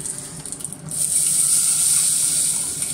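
Diced carrots, celery, onion and garlic sweat in a pan as an aromatic base for a braise. A soft hiss starts, then swells into a steady, close sizzle that holds for the rest of the clip. No one speaks.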